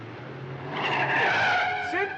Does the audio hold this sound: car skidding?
yes